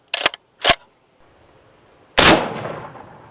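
A Gold Scar rifle firing .308 rounds at a dumbbell: two quick sharp cracks close together, a brief quiet, then a loud blast that rings and decays over about a second, with no talking.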